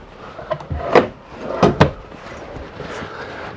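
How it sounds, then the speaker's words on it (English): Storage drawers in a 2012 Tiffin Allegro Red 38QRA motorhome are slid open and shut, giving a few sharp wooden knocks and thumps close by in a quiet interior. "Nice storage drawers."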